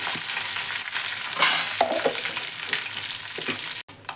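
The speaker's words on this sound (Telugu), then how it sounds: "శనగపప్పు మినపప్పు ఆవాలు జీలకర్ర కరివేపాకు ఎండుమిరపకాయ వేసి వేపుకోవాలి" Chana dal, urad dal, mustard seeds, cumin, curry leaves and dried red chillies frying in hot oil, a steady close sizzle with spatula stirs and scrapes throughout and a brief clatter near the end.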